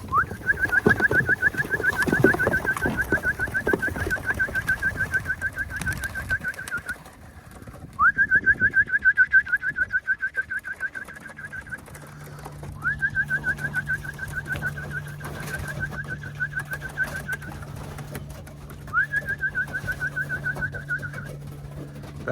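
Homing pigeons coo in four drawn-out, pulsing phrases separated by short pauses, fairly close and clear, with scattered rustling early on and a steady low hum beneath the later calls.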